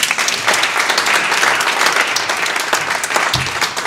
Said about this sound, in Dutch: En applaus voor de hoofdgast van vandaag